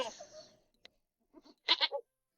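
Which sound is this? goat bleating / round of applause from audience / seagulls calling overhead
goat bleating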